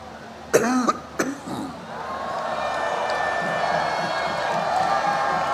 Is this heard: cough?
yes